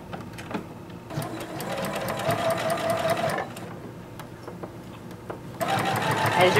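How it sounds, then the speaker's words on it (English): Sewing machine stitching a skater dress sleeve and side seams: close, steady mechanical whirring in several runs of a second or two, separated by short pauses. "then you're just going to sew it all together."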